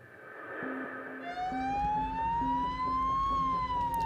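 A hospital ambulance speeds through the streets of Santiago, Chile, its wailing siren rising and sweeping loudly over the low rumble of the vehicle's engine and the surrounding city traffic.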